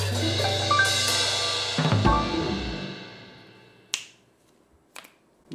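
A few sharp finger snaps ring out, loud and close, between moments of near silence after a ringing thud, at a casual beer tasting.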